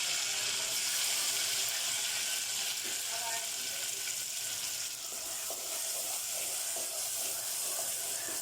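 Ginger garlic paste frying in a pan for a basic white gravy, a steady loud sizzle and hiss with faint stirring scrapes, continuous and close.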